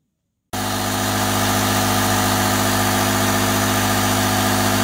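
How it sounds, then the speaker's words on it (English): Electric air pump inflating a Sea Eagle 420x inflatable kayak indoors, starting abruptly after a moment of quiet and then droning loudly and steadily like a small motor, close and alone. "Pump is a little noisy, but we are indoors."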